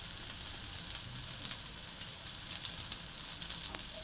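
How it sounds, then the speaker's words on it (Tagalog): Garlic and onion sauté in a pan with a quiet, even frying crackle and scattered tiny pops, close by and with no talking. "So ayan po, gisa na po ako ng bawang at sibuyas."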